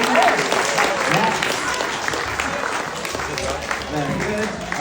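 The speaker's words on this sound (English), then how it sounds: "A very big round of applause." Audience clapping at a rocket science show in the London Science Museum, a moderate, steady round of applause from a family crowd, with voices and chatter mixed in throughout.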